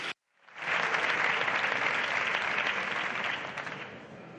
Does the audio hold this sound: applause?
yes